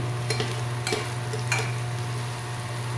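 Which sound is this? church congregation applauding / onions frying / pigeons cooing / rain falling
onions frying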